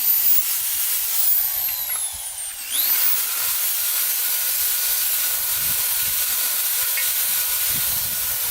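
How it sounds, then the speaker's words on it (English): Brake cleaner sprayed onto a Yamaha YSR 50 motorcycle exhaust pipe, a loud steady aerosol hiss that runs throughout with a short pause and restart early on. "let's wipe it off with some brake cleaner"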